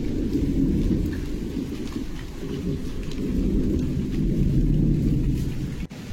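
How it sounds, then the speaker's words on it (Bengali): Heavy rain falls steadily outdoors, a dense, loud, continuous roar of drops on surfaces with a deep rumbling undertone, uninterrupted and without speech. "এইদিকে বৃষ্টি হচ্ছে।"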